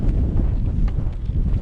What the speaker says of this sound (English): Pretty gusty up here.